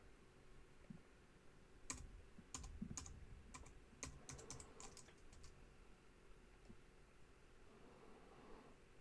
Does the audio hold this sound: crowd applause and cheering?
no